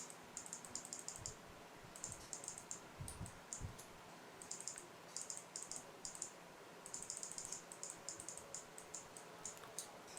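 Rapid bursts of light computer mouse clicks come from painting with a brush in Photoshop, small clusters of crisp ticks separated by short pauses, close and quiet against a faint hum.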